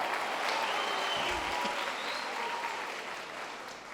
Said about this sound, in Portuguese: Aplauda Jesus direito, então.